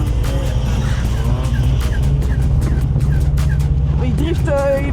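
A buggy drifting across the frozen St. Lawrence River, its engine droning loud and steady with tire scrabble on the ice, while voices talk over it.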